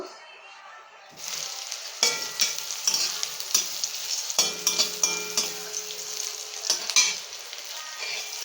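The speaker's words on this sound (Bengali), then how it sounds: "এবারে বেগুন দিয়ে নেব।" Eggplant frying in oil in a pan, starting quiet and then turning into a steady close sizzle with repeated stirring scrapes and occasional light clinks of a utensil against the pan.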